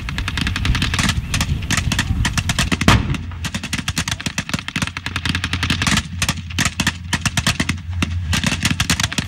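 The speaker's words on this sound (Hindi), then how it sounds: "मेरे बगल में बिल्कुल एक टैंक है जो फायरिंग जिसने शुरू कर दी है" Tank firing on the front line in Syria, a dense, continuous barrage of sharp cracking shots and booming blasts, loud and close, with one heavier thump early on.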